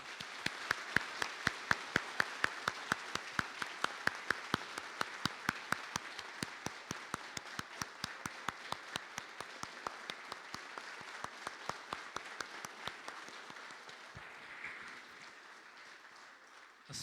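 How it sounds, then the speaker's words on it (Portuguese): A church congregation applauds youths at a confirmation service, steady dense clapping from many hands that holds for about fourteen seconds, then thins and fades out near the end. "E eu vou pedir para a comunidade acolher com uma calorosa salva de palmas essa garotada."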